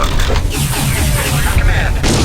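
A spaceship blowing up in the space combat game Freespace 2, a loud, dense, rumbling blast that fills the whole moment, with a radio-style voice speaking over it.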